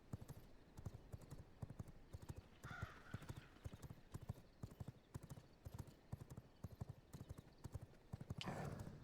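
Rapid, steady hoofbeats of a fast horse galloping in V Rising, a dense clip-clop rhythm running throughout, close and clear, with a brief whinny or game effect near the end.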